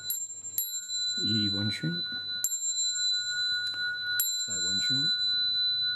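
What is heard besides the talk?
bell rung three times at a Buddhist Dharma talk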